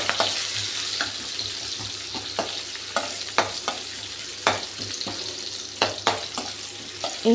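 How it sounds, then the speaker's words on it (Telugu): Chopped onions frying in a pan for upma, a soft steady sizzle broken by repeated spoon scrapes and taps at an uneven rhythm, close by with no voices. "ఒక 2 ఆనియన్స్ కట్ చేసి ఆనియన్స్ వేస్తున్నాను. ఒక 10 మినిట్స్ అలా మగ్గనివ్వాలి."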